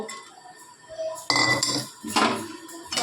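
Fried boras dropped into a pan while making khero kofta: a few clattering, scraping knocks of food and utensil against the cookware, fairly close and loud, with no talk.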